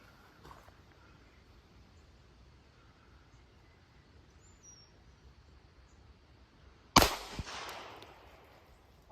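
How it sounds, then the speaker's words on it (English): A single sharp report from a Glock 48 pistol firing Russian ammunition at about 8 yards rings out late in an otherwise quiet outdoor stretch, followed by a short decaying echo. "Guys, just like before, shooting at about 8 yards. Shooting the same mystery Russian ammo."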